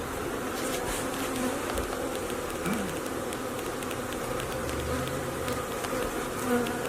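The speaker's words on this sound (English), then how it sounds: "Yep, the whole hive follows the queen's pheromones." Dense swarm of honeybees buzzing around a large beehive full of honey, a continuous close, loud hum with individual bees flitting past.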